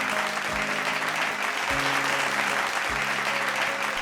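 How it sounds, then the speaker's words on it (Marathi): An audience applauds two winners at a televised dholki music competition, sustained, dense clapping over a low musical hum with faint repeated tones. "जोरदार टाळ्या झाला पाहिजे दोन्ही विजेत्यांसाठी"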